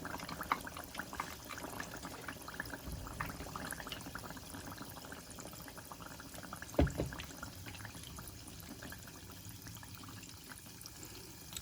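Plantain fritters frying in a pan of oil over reduced heat give a steady, soft sizzle throughout. There is one brief sharper knock near the middle.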